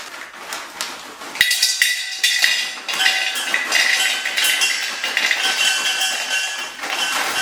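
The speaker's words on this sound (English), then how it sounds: "for which I set a vessel with a stand underneath" In a home kitchen, a metal vessel is set onto a stand underneath it, with a sharp clank followed by continuous metallic clinking and rattling of pots and utensils close by.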